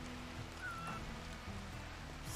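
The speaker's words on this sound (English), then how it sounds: "Oh, that's right, it's raining." Soft, steady rainfall in the video game RimWorld, a faint even patter blended with quiet tonal background music and no voices.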